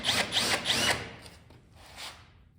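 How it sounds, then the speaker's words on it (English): Power drill countersinking a hole in the cab of a 1970 GMC truck, three short loud bursts followed by fainter, lighter whirring as the bit is eased in slowly. "just real lightly, just kind of countersinking till it fits"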